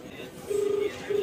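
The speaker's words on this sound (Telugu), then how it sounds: "ఇప్పుడు నా ఫ్రెండ్ ఫోన్ రింగ్ అవుతుంది." An outgoing phone call rings on a friend's phone: a faint, steady ringback tone sounds twice, long pulses separated by a short pause, over quiet room noise.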